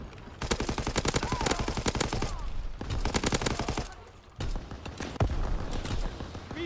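Rapid automatic gunfire in the video game Call of Duty: WWII, with dense bursts of machine-gun shots in two long volleys followed by scattered fire, loud and close with no talk.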